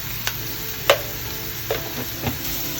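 Chopped onions, green chillies and salt frying in hot oil and being stirred in a pan, a steady close sizzle broken by a few soft scraping stirs.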